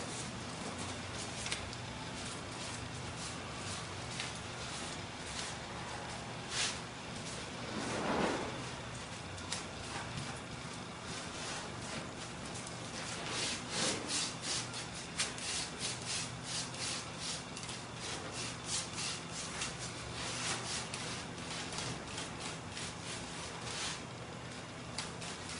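Cloth rubbing wood stain off a wooden surface, soft repeated wiping strokes at close range and fairly quiet, with occasional louder swipes and no talking.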